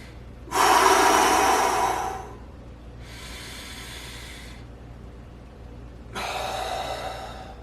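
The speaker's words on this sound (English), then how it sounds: "Finish it off with a centering breath." Deep breathing during a morning breath-work exercise: a loud, long inhale, then a softer sustained exhale, and a final moderate breath, close and alone with no talk.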